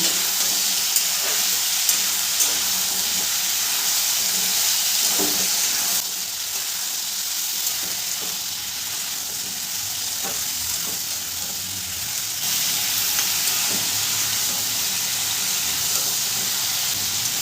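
Raw jackfruit pieces fry in oil over a medium gas flame with steady, loud sizzling and crackle throughout, broken by occasional scrapes and clatters of stirring, with no voices.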